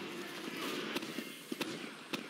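Grenade explosions in the video game Team Fortress 2, a few sharp, quick blasts spread over a dense, noisy game din, fairly faint and distant-sounding.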